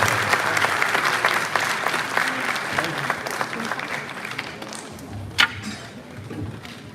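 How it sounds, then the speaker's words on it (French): Conference audience at a paranormal fair applauds a speaker, dense clapping fading gradually over several seconds, with one sharp loud clap or thump near the end and faint voices beneath. "Encore quelques applaudissements, s'il vous plaît, pour l'extraordinaire Alexander."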